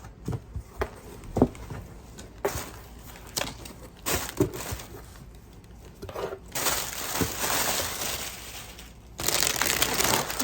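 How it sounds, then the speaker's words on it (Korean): A dog life jacket package is unboxed, with irregular crinkling, tearing and rustling of plastic packaging, interrupted by a few sharp handling knocks, and the rustling grows denser and louder toward the end. "한번 뜯어볼게요"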